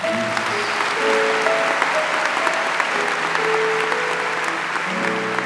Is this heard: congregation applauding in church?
yes